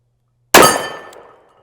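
A single .44 Special round fires from a Smith & Wesson 329PD .44 Magnum double-action revolver: one loud, sharp, close report that rings out and decays within about a second, with no voices.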